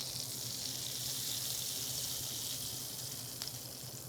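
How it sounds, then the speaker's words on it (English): A hot tadka of spices and red Indian chili powder poured over a chickpea spinach masala sizzles in a steady, hissing fry, close and continuous throughout. "That's a nice sizzle."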